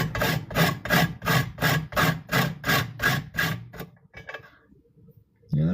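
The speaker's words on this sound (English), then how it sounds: "So I guess we could use the hand grater." A hand grater grinds in about ten quick, even rasping strokes close up, then goes quiet apart from a few faint scrapes.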